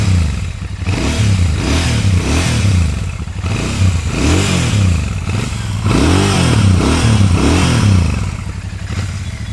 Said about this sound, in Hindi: इसका एग्जॉस्ट साउंड भी एकदम मस्त है